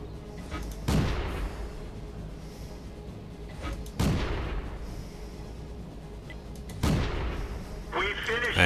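Tank cannon shots in World of Tanks, three heavy booming reports spaced a few seconds apart, each with a long rumbling tail, near and loud, followed by a brief electronic game tone at the end.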